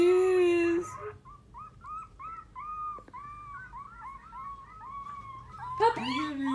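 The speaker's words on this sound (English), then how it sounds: "Look how cute your puppy is." A puppy whimpers and gives thin, rising howls in a run of short repeated cries, with a person speaking at the start and end.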